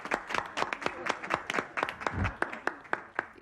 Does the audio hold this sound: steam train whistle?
no